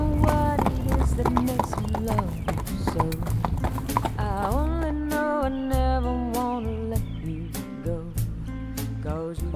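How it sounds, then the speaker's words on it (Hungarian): Two horses walk slowly uphill on a trail in the Szalajka valley, their hooves clip-clopping steadily and close under continuous music. "A két lovunk lassan bandukol a hegyen fölfelé"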